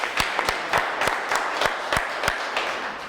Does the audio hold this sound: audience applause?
yes